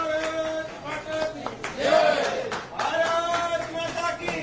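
An audience at a political party joining event claps to welcome a new member, steady crowd applause running under a speaker's amplified voice throughout.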